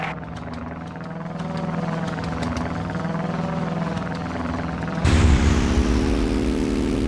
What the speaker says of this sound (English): That sub's launching fighters.